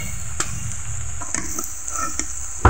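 Moringa leaf fritters made with ground chana dal paste fry in hot oil with a close, bubbling sizzle, while a utensil clicks and taps against the pan as they are lifted out.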